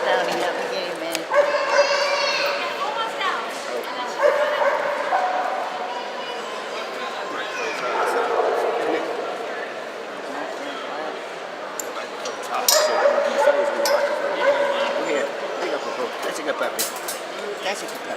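Dogs at an indoor conformation dog show bark, yip and whimper repeatedly amid a crowd's murmur and occasional clinks, with people talking nearby throughout.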